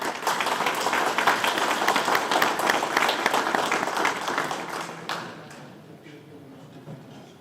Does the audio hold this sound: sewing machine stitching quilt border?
no